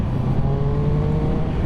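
Triumph Speed Triple 1200 RS motorcycle engine held at a steady, loud, close drone in third gear during a wheelie, with a strong sustained tone and no talk.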